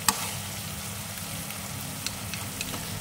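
Meat filling for grilled bread stir-frying in a pan, a continuous close sizzle with a sharp utensil tap at the start and a few light clinks, no talking.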